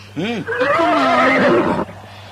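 A horse neighs close by, a loud whinny that starts with a short rising call and then trails into a long quavering tone before cutting off.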